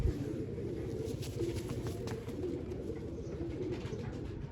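Large pigeons coo steadily close by, a continuous low, throaty warble of overlapping calls that carries on throughout without pause.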